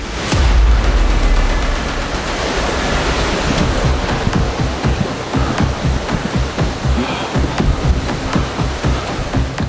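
A waterfall in a Chhattisgarh forest roars continuously nearby, a loud, dense wash of rushing water that fills the whole stretch, with thuds of wind or handling buffeting the microphone throughout.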